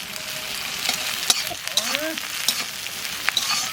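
Green chilies and curry leaves sizzle and crackle in hot oil, a steady close frying hiss with sharp pops and brief stirring scrapes across the pan.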